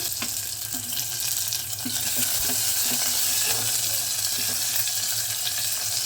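Onion goes into hot oil with ginger, garlic and green chilli paste for a beet and carrot curry, producing a loud, continuous close-up sizzle with light stirring scrapes underneath.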